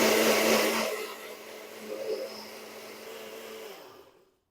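A blender whirs through a protein batter of milk and powder, loud and dense at the start, then settling into a steadier whine with a brief surge midway before cutting off near the end.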